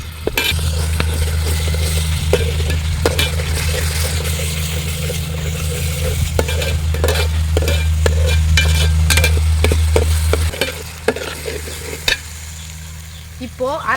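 Ginger garlic paste and tomato frying in a pot for beef biryani, stirred with a steady run of scraping clatters over a continuous sizzle and a low hum, close and fairly loud, easing slightly near the end.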